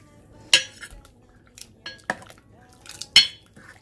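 A utensil stirs Japanese curry roux in a pot to melt it, with several sharp metallic clinks and scrapes against the pot at irregular intervals and quiet gaps between them.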